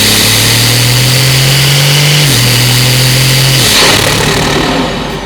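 A Stage 3 tuned BMW X5 40i engine in Sport Plus mode revs hard and accelerates, holding a loud droning pitch, shifting down a step, then easing off as it fades slightly.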